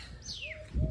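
A single koel call, a descending whistle followed by a steady tone, heard close and clear against faint background noise in a Botad village.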